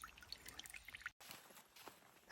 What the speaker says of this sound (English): there's a little dribble right here